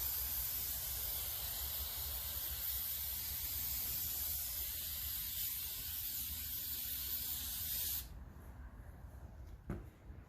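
A spray can hisses steadily as it coats a hat brim with shellac, a close, even spray lasting about eight seconds before it cuts off, followed by quiet handling noise.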